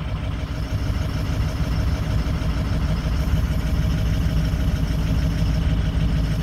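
Several vehicle engines idle together inside a shop on a cold-morning start, a constant low rumble with steady mechanical hum, close and loud, no voices.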